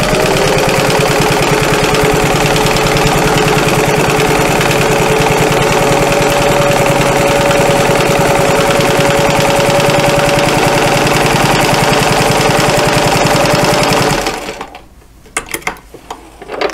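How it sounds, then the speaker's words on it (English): Sewing machine stitching through quilted fabric runs steadily and loudly for about fourteen seconds with a constant mechanical whir and rapid needle chatter, then stops abruptly and leaves a few faint clicks. "So I'm just going to keep on stitching"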